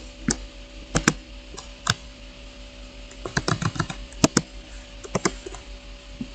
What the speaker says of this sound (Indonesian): Kita ketik git clone, lalu kita paste link yang tadi.